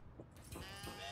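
A sheep bleats in a PC action game, one short mid-level call lasting about a second with game ambience behind it.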